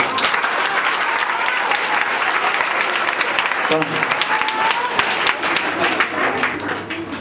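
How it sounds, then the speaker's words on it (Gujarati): Sustained applause from an audience at a Gujarati folk dayro music gathering, dense steady clapping filling the hall and holding loud for the whole stretch with a slight dip near the end. "એમને પણ આપણે તાળીઓથી વધાવીએ"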